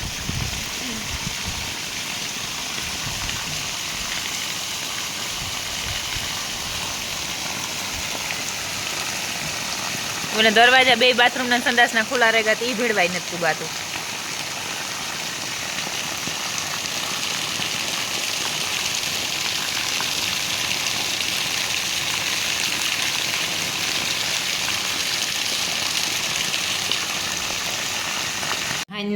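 Steady rain hisses continuously on a surface, even and unbroken, while a voice talks briefly partway through.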